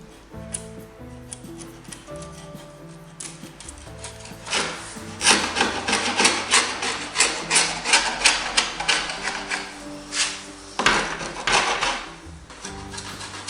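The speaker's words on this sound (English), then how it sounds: "can chip and pop off a lot of the old paint, and the chisel isn't so sharp that it will damage the wood" A chisel chipping and scraping old paint off a wooden Victorian sash window, starting with quieter scrapes, then a run of loud, rhythmic rasping strokes up close, each one a sharp burst.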